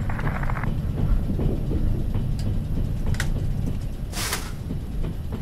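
Rumble of a train rolling on rails in a Trans-Siberian Railway simulator game, a steady loud low drone throughout with brief metallic clanks and a hissing burst near the end.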